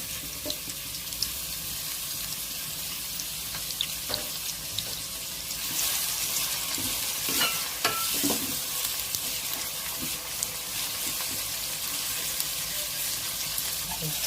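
Onions frying in hot oil in a home kitchen pan while cooking a fish mango curry, a steady hiss and sizzle with occasional clinks and scrapes of stirring.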